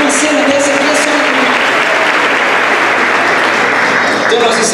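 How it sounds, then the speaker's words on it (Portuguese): Church congregation applauding during a service, loud sustained clapping from many hands filling the room, with a voice speaking faintly underneath. "dá salva de palmas para Jesus"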